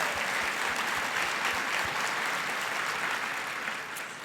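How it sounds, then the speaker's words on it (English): A conference audience applauds a panel, steady dense clapping filling the room throughout and tapering slightly at the end. "So please join me in giving them a round of applause and thank you."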